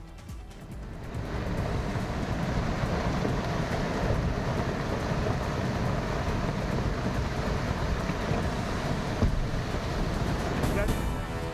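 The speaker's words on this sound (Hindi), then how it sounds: "नैनीताल में दोपहर बाद हुई मूसलाधार बारिश।" Heavy torrential rain in Nainital pours steadily as a loud, dense wash of noise. It holds an even level throughout, with no clear voices.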